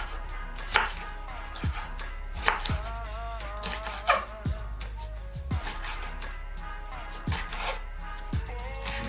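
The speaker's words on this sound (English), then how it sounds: "just want to roughly chop it up." A green onion is roughly chopped on a cutting board for a rib dish, the knife striking in irregular clusters of sharp, close thuds, about a dozen distinct chops spread over the stretch with short pauses between them.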